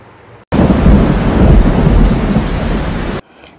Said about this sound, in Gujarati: સાબરકાંઠાના વડાલીમાં સાંબેલાધાર વરસાદ